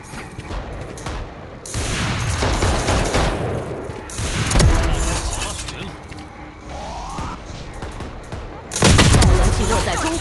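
Gunshots in the mobile shooter Valorant Mobile on the Breeze map, several loud bursts of in-game gunfire and booms separated by quieter stretches, with a player talking throughout.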